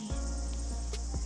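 A fly buzzes outdoors on a New Zealand tramping trip, a steady, close, droning hum that holds for over a second, with no talking.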